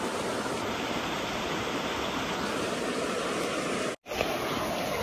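River water flows at a bathing spot in Dehradun, a loud, dense, continuous rushing wash close by, steady throughout apart from a brief dropout near the end.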